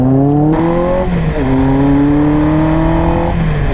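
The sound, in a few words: Kawasaki GPz 750 motorcycle engine revving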